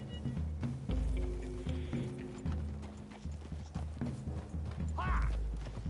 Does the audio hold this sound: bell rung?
no